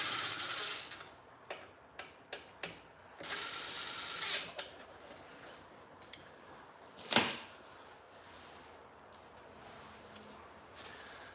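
Two screws driven in to hold down the plastic top cover during a snow blower repair: a handful of ratcheting clicks and short mechanical bursts, one louder clack midway, then a quiet room.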